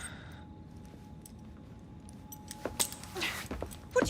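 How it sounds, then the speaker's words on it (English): Keys jangle briefly as they are handed over in the video game Assassin's Creed Syndicate, faint metallic rattles toward the end over a quiet background hum. "Now hand over your keys."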